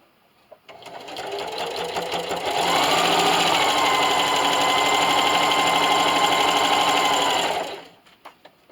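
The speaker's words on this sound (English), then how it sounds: "I'm going to sew at a diagonal down" Sewing machine stitching a diagonal line through a hot jar canning mitt, starting with a few short stitches, then running steadily and loudly for about five seconds before stopping.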